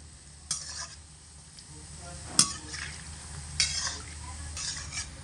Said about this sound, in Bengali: এইভাবে অনবরত নাড়াচাড়া করে 4 থেকে 5 মিনিট সময় নিয়ে ভালো করে বড়াগুলোকে ভেজে নিয়েছি